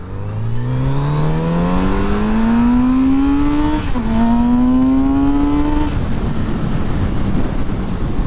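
A Kawasaki Z900RS retro naked motorcycle with a 1000 cc engine accelerates hard, its engine note climbing steadily, dipping briefly at a gear change near the middle, then rising again before easing off under wind noise; loud and close.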